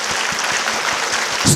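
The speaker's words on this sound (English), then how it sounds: "Clap as if your whole body is jerking." An audience at an education awards ceremony claps steadily together, a dense wash of hand claps with a faint rhythmic pulse that holds for the whole moment.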